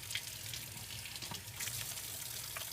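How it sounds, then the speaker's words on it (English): Water runs from a sink tap while hands are washed before cooking at a skillet, a faint steady splashing stream with soft clinks, heard up close at low volume without talk. "Let me wash my hands real quick"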